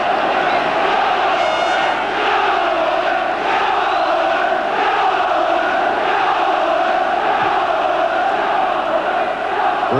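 A large football crowd at an FA Cup semi-final between Oldham Athletic and Manchester United roars and cries out continuously, a loud, sustained stadium din with swelling shouts and no pause.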